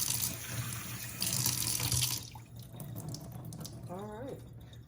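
Running tap water rinses the seeds out of halved poblano peppers, a loud steady splash for about two seconds that drops to a softer trickle, with a brief squeak near the end.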